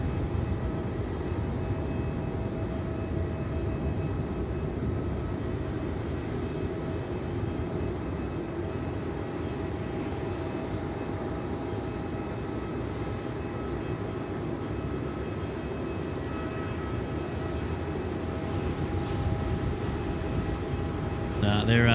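Singapore Airlines jet at Melbourne airport at night, its engines giving a steady distant roar that holds throughout, with faint talk at times.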